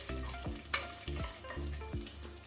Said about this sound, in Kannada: ಜೀರಿಗೆ ಜಾಸ್ತಿ ಫ್ರೈ ಆಗೋದು ಬೇಡ.